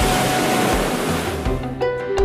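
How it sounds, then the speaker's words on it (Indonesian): Ocean waves crash in a continuous, loud roar of surf, with faint tonal music surfacing toward the end. "Gemuruh ombak memecah samudra."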